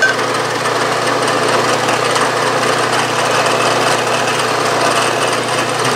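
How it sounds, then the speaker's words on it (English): A drill bores a shallow quarter-inch hole for a 440 screw in a part for a small horizontal steam engine, a steady, loud grinding whir that runs unbroken throughout, with no talking. "I'm only going to drill in about a quarter inch"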